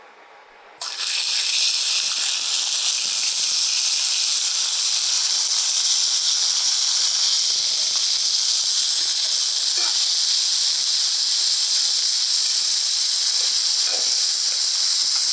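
Boiled fenugreek leaves hit hot oil in a pan, bursting into a loud, steady sizzle that starts abruptly and holds a constant hissing crackle to the end with no talk.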